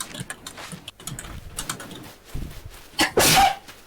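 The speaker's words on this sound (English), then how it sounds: "Just loud sneeze." A single loud, sharp sneeze bursts out near the end of a stretch of quiet room noise and faint clicks during a gaming stream, close to the microphone and abrupt.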